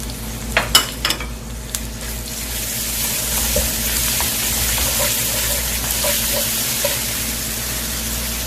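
Thirty grams of garlic sizzles in perilla oil for a sweet potato stem stir-fry, a steady loud hiss filling the whole stretch, with a few sharp utensil clicks near the start and no talking.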